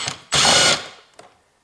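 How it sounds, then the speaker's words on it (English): An electric driver with a socket loosens a side mirror bolt on a BMW 3 Series. It gives one short, close whirring burst of under half a second, followed by a faint click. "now I use my electric driver"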